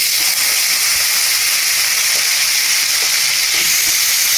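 Potatoes go into hot oil and fry with a loud, dense, steady hiss and sizzle that fills the whole short stretch.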